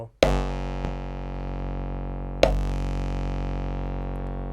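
Nord Drum 3P drum pads with distortion added, two hard struck hits with a faint tap between them, each leaving a long buzzing, gritty sustain that decays slowly, played alone without talk.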